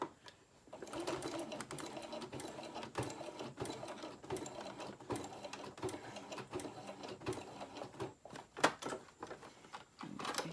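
A home sewing machine stitches slowly through many thick layers of lanyard webbing, a steady close mechanical whir running for about ten seconds with a few brief pauses and hitches near the end.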